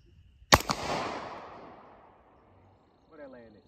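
A single sharp .223/5.56 AR rifle shot cracks outdoors toward a target, followed by a quick second report and a long rolling echo that fades, with a brief voice speaking faintly near the end.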